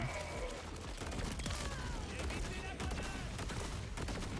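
Shotgun blasts in the video game Borderlands 4, a dense run of loud, rapid gunfire reports layered with other combat effects, continuous and busy across the whole stretch.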